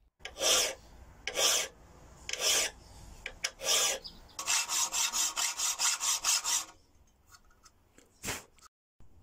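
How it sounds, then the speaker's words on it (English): Steel file rasping long teeth into the edge of a forged Damascus knife billet, in irregular bursts of scraping strokes and then a fast run of even rhythmic strokes, close and clear with no talk. "Mark things out with a saw and then file down through most of the billet."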